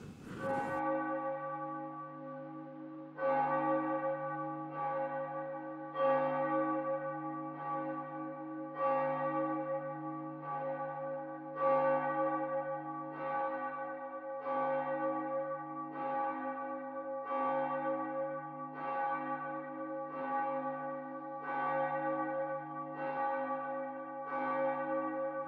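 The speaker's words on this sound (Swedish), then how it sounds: "låta kyrkklockorna ringa in oss till julkrubbegudstjänst" Church bells of Tygelsjö church peal steadily before a Christmas crib service, a sustained ringing with repeated rhythmic strikes layered over a humming resonance, loud and continuous with no voices.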